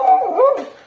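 A single American Foxhound hunting dog howls close by during a night paca hunt, a wavering, rising and falling cry lasting under a second, fading out at the end.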